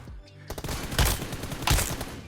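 Rapid bursts of gunfire ring out in a PUBG Mobile match, loud close shots with a couple of heavier impacts over a continuous game soundscape.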